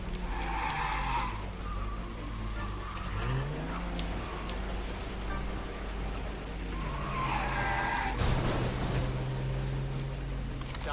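Video game car chase with tires skidding and squealing over a steady engine drone, ending in a sharp crash burst near the end; no speech.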